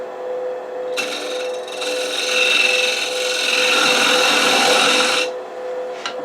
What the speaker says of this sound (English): I'm simply going to come in with my box scraper and come straight in